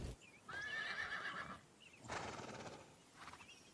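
A horse whinnies loudly for about a second, followed by a second shorter neigh and a fainter one, with faint hoof clatter in the background.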